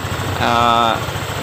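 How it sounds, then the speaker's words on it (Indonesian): A Honda PCX 150 scooter that had stalled and would not crank on the starter runs at idle after its brake switch is jumpered, a steady mid-pitched hum swelling for about half a second over a rumbling background. "Nah ini ternyata mesin hidup."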